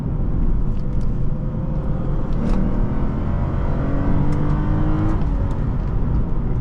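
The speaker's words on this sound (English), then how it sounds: "We're gonna do one more downshift." A 2006 Lexus IS250 engine heard from inside the car during a downshift, a dense steady drone with road rumble and rising and falling engine tones, loud and continuous.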